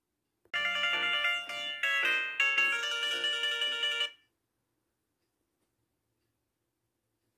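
A phone ringtone for an incoming call from a hidden number rings as a bright melodic tone pattern for about four seconds, then stops, leaving near silence.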